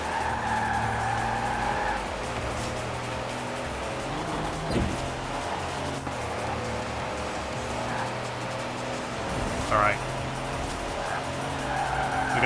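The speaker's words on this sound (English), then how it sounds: "We're going 160 miles an hour in a truck" A truck tearing along at high speed in a video game, its engine droning steadily while tires squeal and skid in several bursts, with a brief spoken remark.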